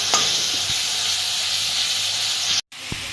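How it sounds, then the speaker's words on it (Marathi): Masala roasts in a pan, giving a steady soft hiss and sizzle throughout, with a couple of faint scraping stirs, a brief drop to near silence near the end, then the sizzle resumes. "ह्याला चांगलं आपण भाजून घेऊया"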